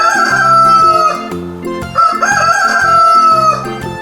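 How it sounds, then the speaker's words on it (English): A rooster crows a loud cock-a-doodle-doo twice, close and drawn out, over an upbeat children's music backing track. "Rooster says,"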